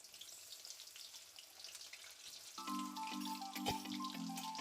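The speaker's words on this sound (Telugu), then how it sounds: "ఇప్పుడు కొద్దిగా మనం వేసుకొని ఫ్రై చేసుకుందాం." Corn kernels begin frying in oil over low heat for a crispy corn snack, a faint soft sizzle that rises as a tonal hum of the stove or kitchen appliance joins partway through, no voices.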